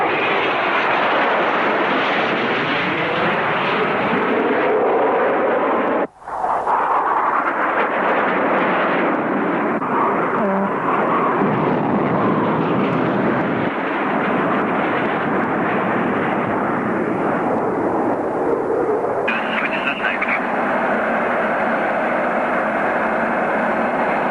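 An F-4E Phantom jet with slatted wings roars steadily in flight, a loud continuous broadband engine drone heard from the cockpit, with one brief sharp dropout partway through and a slight tonal shift near the end.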